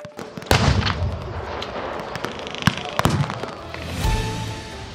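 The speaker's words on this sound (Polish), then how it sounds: "armaty i moździerze" Cannon and mortar fire at a battle reenactment with 200 reenactors, tanks, trucks and heavy machine guns, heard as several loud, sharp booms and cracks in quick succession over a rumbling outdoor background.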